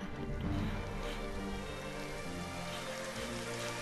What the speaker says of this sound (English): It's all rainy now.